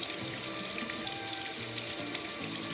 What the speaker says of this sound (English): most of the water is just running off of the jacket